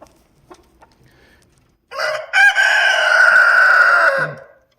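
A chicken gives a single loud, drawn-out, strained call lasting about two seconds, close and alone after a few faint soft sounds, with no talking.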